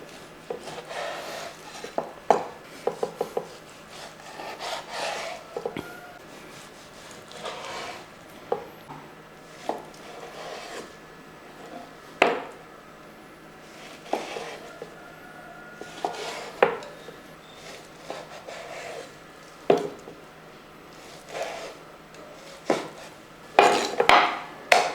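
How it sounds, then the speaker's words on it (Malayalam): A knife chops through skinned fish on a cutting surface. The sharp knocks come in irregular clusters, with occasional clatter of utensils and dishes in a quiet kitchen, and no one speaks. "ഇതിൻ്റെ തൊലിയെല്ലാം കളഞ്ഞതിന് ശേഷം നമുക്കൊന്ന് അരിഞ്ഞെടുക്കാം."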